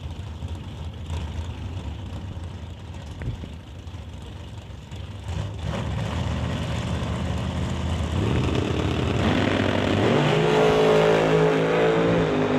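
A 1984 Chevrolet and an M&M dragster launch hard in a drag race, their engines building to a loud, sustained roar that climbs in pitch and intensity over the run.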